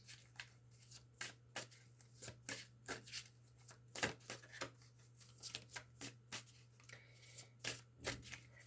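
A deck of tarot cards is shuffled by hand in a quiet room. Soft, repeated riffling and slapping bursts come close up over a faint steady hum.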